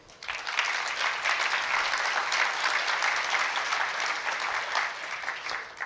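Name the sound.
audience applause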